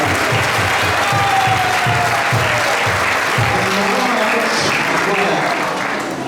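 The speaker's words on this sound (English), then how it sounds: "So can we give a big round of applause for Maharaj?" A room full of guests applauds at a Janmashtami celebration held in a home in Ontario, Canada, loud, dense continuous clapping that fills the whole stretch, with a few voices mixed in.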